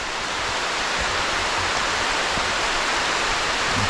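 Heavy rain falls as a steady, dense, loud hiss with no break, close and unbroken throughout.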